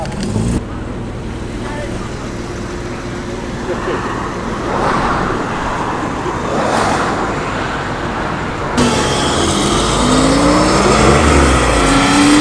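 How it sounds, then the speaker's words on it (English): A Jaguar Series 1 E-Type Roadster drives off at a car meet, its engine noise building from a steady rumble to a louder, closer roar with traffic-like road noise around it. "the E-Type's going"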